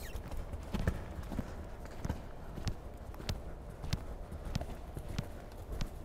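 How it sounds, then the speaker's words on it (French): A horse galloping in a riding arena, its hoofbeats landing in a steady, rhythmic clip-clop close by over a soft background hum. "on va faire la même chose au galop à droite"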